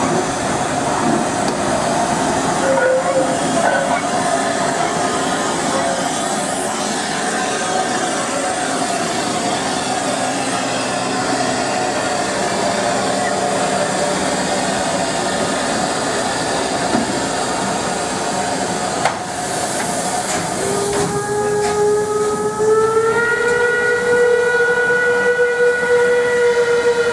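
A Class 52 steam locomotive, reconstructed in 1973 and owned by a railway society, runs loudly with steady chuffing and rumble, then sounds a long multi-tone steam whistle near the end.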